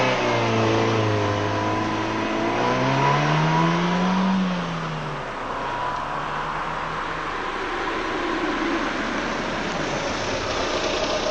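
A Ford car with a 1.8-litre, fuel-injected, catalyst-designed 130 bhp engine accelerates hard on a test track, its loud engine note climbing steadily through the revs before settling into a sustained roar, with no voices.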